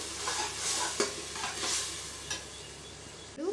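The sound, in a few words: masala frying and being stirred in oil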